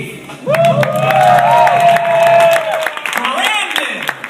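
Young audience at a teen poetry competition breaks into loud clapping and cheering with high whoops, swelling for a couple of seconds before easing into scattered applause and voices.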